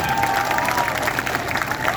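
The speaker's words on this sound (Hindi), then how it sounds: "अब ताली बजा लो, आप बजा लो ताली" A crowd at a Jan Swaraj Party political rally claps in a dense, continuous wash, with a faint tonal hum and scattered crowd noise underneath.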